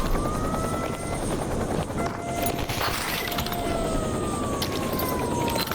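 A military helicopter flies in Stalker Anomaly, a steady loud rotor drone filling the whole stretch with a faint siren-like whine gliding over it.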